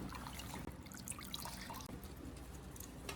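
Water rinsing green onions in a strainer, a steady faint trickle and splash with small drips, continuous and close.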